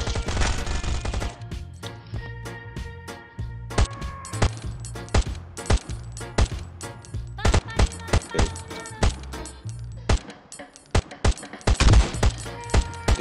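Rapid bursts of automatic gunfire in the survival shooter game Last Island of Survival, sharp repeated cracks in quick volleys with brief pauses between them, loud and close, over a steady low game tone.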